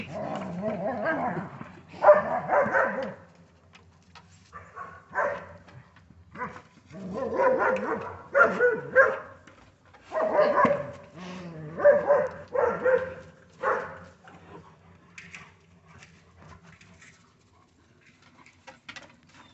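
Several dogs of a house pack bark, yip and whimper in overlapping bursts while playing in the first snow of the year, loud and near with brief pauses between flurries.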